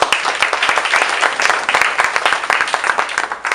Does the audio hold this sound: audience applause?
yes